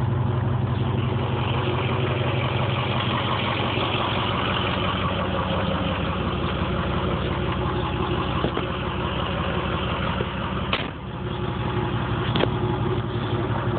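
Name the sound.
MTW Stage 3 turbo car engine idling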